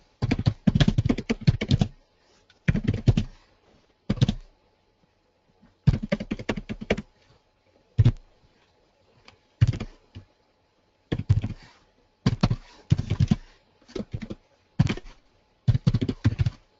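Code being typed on a computer keyboard comes through as close, crisp clusters of rapid keystrokes in short bursts separated by brief pauses, with no voices present.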